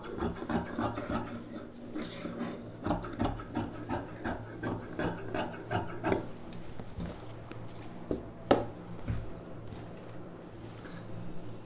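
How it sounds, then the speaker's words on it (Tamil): Scissors snip through fabric cut for a puff sleeve, a close, quiet run of rhythmic rasping crunches repeating in short strokes, alone without talk. "இந்த ரவுண்ட் ஷேப்புக்கு அப்படியே கட் பண்ணிக்கலாம்"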